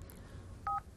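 A telephone keypad gives one short, clear two-tone dialing beep over a quiet background hum.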